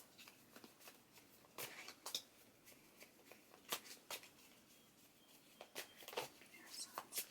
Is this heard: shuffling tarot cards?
yes